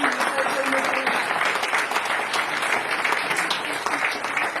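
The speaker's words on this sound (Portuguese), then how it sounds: "deixar uma grande salva de palmas a estas três pessoas" Clapping for three book authors at a launch event in Mação, a dense, steady round of applause filling the whole stretch, with a few voices mixed in.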